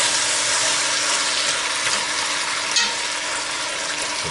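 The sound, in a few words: chicken searing in a pan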